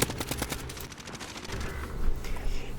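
AN-94 rifle fire in the video game Call of Duty Warzone (Modern Warfare), rapid bursts of sharp gunshots cracking in quick succession, fairly close, with no talking.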